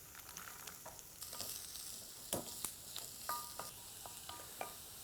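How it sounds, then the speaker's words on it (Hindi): Onions fry with lightly browned garlic and ginger in a pan for a restaurant-style matar paneer, giving a faint, steady sizzle broken by several sharp clicks and scrapes of stirring, with no one talking. "जैसे ही वो हल्का सा भूरा होने लगे उसमें हम डालेंगे प्याज"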